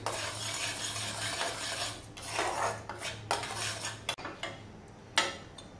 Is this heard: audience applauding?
no